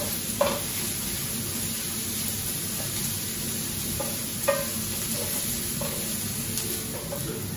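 Sliced onion sautés with garlic, aniseed and curry leaf in a pan, a soft steady sizzle under occasional light scrapes and clinks of stirring, close and moderately quiet, no voices.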